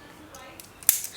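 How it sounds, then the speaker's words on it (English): A knife slices through packing tape on a box, with a few soft scraping strokes and a brief sharp rip near the end, close and fairly quiet. "I have this knife here. Let's cut the tape."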